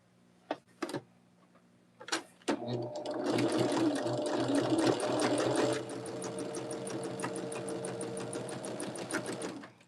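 A sewing machine stitches quilt block pieces together, starting after a few clicks and then running in a steady rapid mechanical hum with fine ticking for several seconds before slowing slightly.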